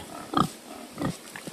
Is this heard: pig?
yes